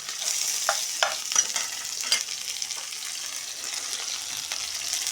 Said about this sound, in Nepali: गहटा भुट्दैछु।